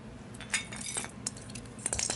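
A glass Christmas ornament, an old hanging bauble with a small bell, clinks and taps lightly as it is handled, several short bright chinks scattered over a quiet background.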